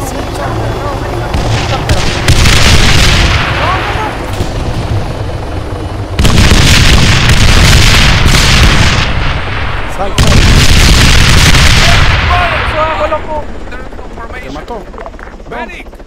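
An aircraft crashes in the military game Arma 3, heard as loud, roaring booms in three long waves, with rumbling, explosive noise over a steady engine drone while players talk underneath.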